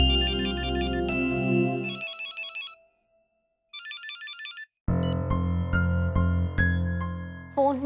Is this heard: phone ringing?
yes